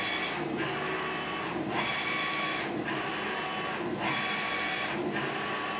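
A screen-printing press for shirts runs steadily, a loud continuous mechanical whir with a regular cyclic surge about every 1.2 seconds, heard alone without talk.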